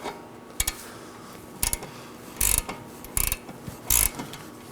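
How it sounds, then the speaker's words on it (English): Wrench ratcheting on an outer tie rod nut of a 2018-2024 Chevrolet Equinox, an 18mm wrench held with an 8mm on top: short metallic clicking bursts in irregular groups, close and fairly loud, with no talking. "So I'm going to use my 18mm wrench, slide it over, and now my 8mm wrench on top."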